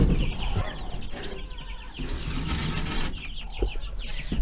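About two-week-old baby chicks in a brooder give repeated high, thin cheeps over a busy, rustling background, fairly close and continuous throughout.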